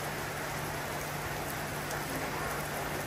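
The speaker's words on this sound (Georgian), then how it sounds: "ასაოცრად წვიმს." Heavy rain falling steadily in the evening, a dense, even hiss of drops that stays loud and constant from start to finish with no voices.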